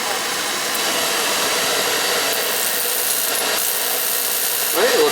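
An oil-fired heating boiler's burner lights and runs with a loud, steady broadband roar like rushing air, constant for several seconds with a few faint clicks and a brief rising tone near the end.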